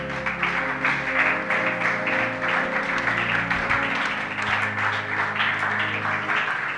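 A church congregation at a Sunday service applauds and cheers together, a steady loud burst of clapping that holds across the whole stretch, with music sustained underneath.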